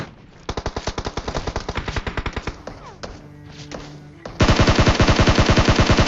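DP machine gun firing in a video game: a fast rhythmic burst, a short pause with scattered shots, then a louder, closer sustained burst.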